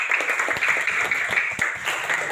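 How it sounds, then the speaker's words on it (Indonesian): A class of Indonesian schoolchildren claps for a classmate during a lesson, a steady, fairly close round of hand clapping lasting a couple of seconds with faint voices mixed in. "mari kita tepuk tangan buat temanmu si Dion."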